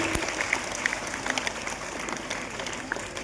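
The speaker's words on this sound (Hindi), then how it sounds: "तो मुझे लगता है कि ये एक ताली तो उनके लिए बनता है" A crowd at a Hindi elocution event applauds in a short burst, scattered hand claps forming a fairly even patter with a few sharper individual claps, without talk.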